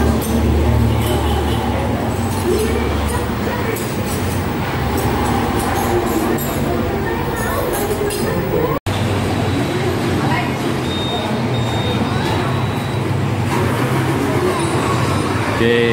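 The running engine of passenger train MHD 161, bound from Palembang to Jakarta and Cikarang, gives a loud, steady diesel rumble with a brief high whine, heard up close and unbroken throughout.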